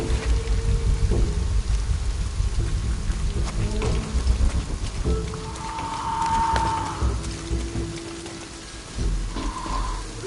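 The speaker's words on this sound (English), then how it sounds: "This storm is coming in quick." Steady rain and rumbling thunder from a storm in the video game Shadow of the Tomb Raider, a dense continuous wash with low rolls throughout and a brief tonal swell near the middle, with no talk.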